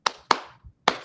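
Three sharp, separate hand claps with short gaps between them, close and loud against near silence, plus a faint low thump between the second and third.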